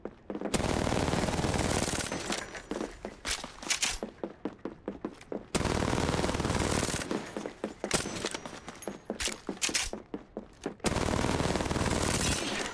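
An R99 submachine gun fires in the video game Apex Legends: three long, loud, rapid automatic bursts, separated by stretches of sharp, clipped shot-like impacts.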